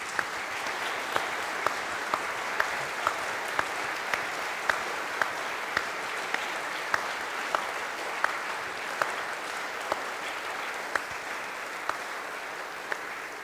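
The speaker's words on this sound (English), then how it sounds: "at the very least, you deserve a big round of applause." Sustained applause from a lecture audience after a talk on artificial intelligence and the future of humanity, a dense even roar of many hands with distinct individual claps popping out at regular moments, continuing at full strength throughout.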